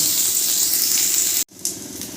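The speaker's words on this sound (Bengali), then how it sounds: "এবার উচ্ছেগুলো ভেজে নেব" Sliced bitter gourd frying in hot oil, a steady bright sizzle and hiss close by that briefly cuts out, then resumes.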